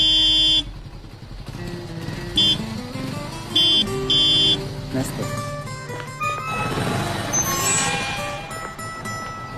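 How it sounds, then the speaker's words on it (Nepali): Motorcycle horn honking in several short, loud bursts over a running engine and street noise, with voices chatting nearby. "हजुरले त मोटरसाइकलको हर्न बजाउनै पर्दैन थियो नि हजुरको मोटरसाइकल त हेलिकप्टर भन्दा बढी कराउँछ"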